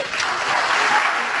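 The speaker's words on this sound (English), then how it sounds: "Can we please hold the applause?" Audience at a presidential debate bursts into loud, dense applause, a continuous wash of clapping throughout with no voices on top.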